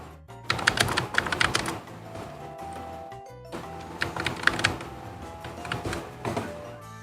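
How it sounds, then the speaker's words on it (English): Keyboard typing at a writing desk, bursts of quick, close clicking keystrokes with short pauses between flurries, fairly loud and steady with no talk over it. "I'm getting distracted, so I'm typing a lot less."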